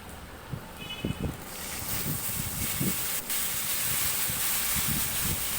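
Boiled jackfruit pieces dropped into hot oil with fried spices, giving a steady loud sizzling hiss that swells after the first second and holds, with a few low clatters of pieces and utensil early on.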